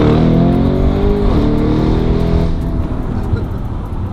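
A Lamborghini Urus engine revs hard and accelerates, a loud, close, rising roar that then settles into a rumbling drone, with people talking over it.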